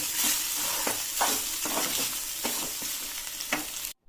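Rice is stirred into seasonal tamarind leaf pulihora in a pan, a spoon scraping and turning the mix in repeated strokes over a faint sizzle before cutting off abruptly at the end.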